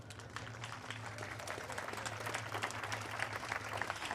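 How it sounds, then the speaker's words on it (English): Podium applause at a Ferrari Challenge UK race at Snetterton, a faint, distant patter of clapping from a small crowd over a steady low hum, with no voices over it. "can I have a big round of applause for the driver who fought valiantly all the way"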